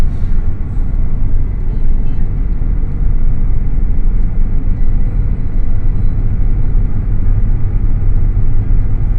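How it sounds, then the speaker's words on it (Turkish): Car engine held at a steady, loud low drone from inside the cabin during a driving lesson as more gas is given, straining for a higher gear, continuous throughout with no talk. "Daha gaz veriyor gördün mü?"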